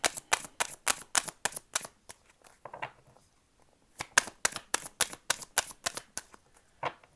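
Tarot cards being shuffled in rapid, crisp riffling bursts, a run of sharp flutters, a brief near-silent pause, then another quick series of close, loud shuffles.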